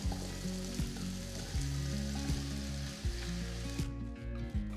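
Thinly sliced onions and whole spices (cinnamon, clove, cardamom, star anise, mace) sauté in oil inside an electric pressure cooker, giving a steady loud sizzle with a few stirring clunks and no voices.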